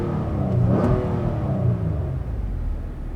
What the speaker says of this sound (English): let's see if the engine makes any different sound here